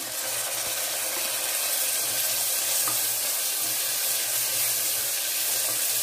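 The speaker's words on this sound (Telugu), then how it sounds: "అల్లం వెల్లుల్లి పేస్ట్ అండి ఇది కూడా బాగా వేయించుకోవాలి" Ginger garlic paste and tomato pieces fry in a pan for a Telugu-style vegetable pulao, giving a steady, even hiss of sizzling that holds constant throughout with no voices.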